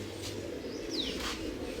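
A large pigeon coos softly at a loft, a faint low murmuring coo under steady background hiss, with a brief higher chirp from another bird in the middle.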